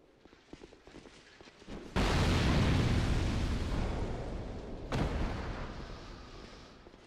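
An explosion in the video game Dark Souls II erupts as a sudden loud, sustained rumbling roar, followed by a second burst a few seconds later, after a quieter stretch of game sound.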